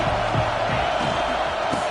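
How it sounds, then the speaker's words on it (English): A college football stadium crowd roars in a steady, wide wash of cheering and shouts, with a commentator's voice faintly over it. "This crowd ready to make its presence known."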